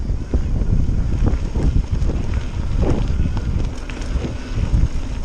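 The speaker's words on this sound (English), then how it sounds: "Currently riding at 20 miles an hour into a wind, as you can hear." Steady roaring wind buffets the microphone of a bicycle riding at 20 mph into a headwind, a loud continuous rumble with gusty swells and no speech.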